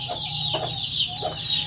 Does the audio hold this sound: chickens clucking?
yes